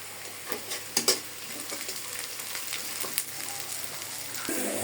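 Green chilies fry with onion and garlic in a wok, giving a soft, steady sizzle with a few sharp stirring scrapes and clinks, faint and without talk.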